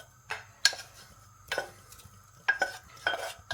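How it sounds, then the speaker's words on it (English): A spoon stirs rice into mulligatawny soup in a pot, making a few separate scraping, clinking strokes against the metal with short pauses between them, close and fairly quiet. "It'll loosen off once it's in there, and I give it a stir."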